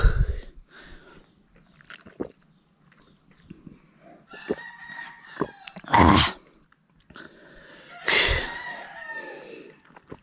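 Fighting cocks on a rural Philippine farm let out two loud, close crowing calls amid scattered softer clucks and chirps, with quiet outdoor background between them.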